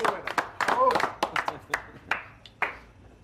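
A small group claps for the grill cook at a casual gathering, scattered uneven claps in bursts that thin out, with voices talking and cheering over them.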